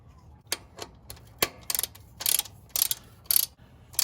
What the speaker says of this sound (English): when you're tightening these down, remember this is a steel plug going into aluminum